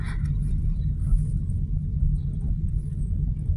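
Car engine rumbling steadily from inside the cabin while driving home, a continuous low drone without speech.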